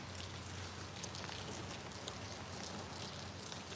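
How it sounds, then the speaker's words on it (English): Steady rain falls outdoors by a bridge in Ontario during a fishing session, with runoff draining off the bridge. It makes a continuous, even hiss with faint scattered drop taps and no talking. "it is steady raining, pretty good."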